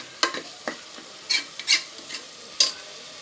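A spatula scrapes and stirs a frying spice paste for mutton gravy curry in a pan, giving several short, close scraping strokes over a soft sizzle with no talk.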